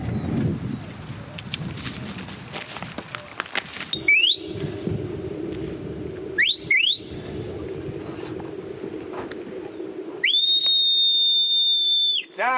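A shepherd in the Scottish Highlands directs sheepdogs with sharp whistle commands: short rising chirps in pairs, then a long sustained piercing blast, over a rushing outdoor wind background.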